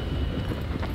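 Horse hooves pounding in a fast gallop in Shadow of the Colossus, a steady low drumming rhythm throughout, close and fairly loud with no talk over it.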